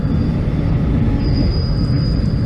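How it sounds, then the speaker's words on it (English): A freight train rolls along a rail line, a loud steady low rumble of wheels and wagons close by with a thin high squeal running through, no voices. "that train could be going down to South Australia. That's a freight train."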